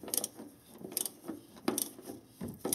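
A ratchet with a 27 mm socket turns on a Toyota Sequoia/Tundra oil filter housing, giving short quiet clicking bursts in a loose rhythm, close up and faint, with no voices.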